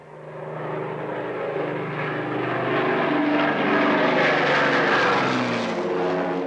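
Propeller-driven RCAF aircraft fly overhead on an emergency food airlift to the Western Netherlands, a steady droning engine roar that swells slightly louder as it passes, with no voices.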